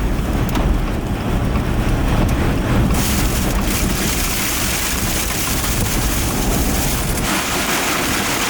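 Rear flank downdraft winds of a tornado storm roar loudly and constantly into the microphone, a dense, buffeting rush with hail starting, no talking.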